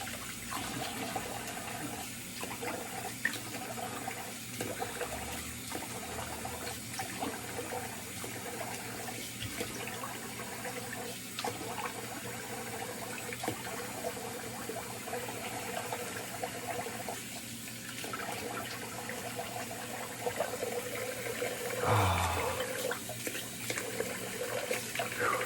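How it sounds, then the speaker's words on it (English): Tap water runs steadily into a sink during a wet shave face rinse, a quiet continuous rush with a few brief splashes and louder gushes near the end. "get rid of this water, get some cold water on my face"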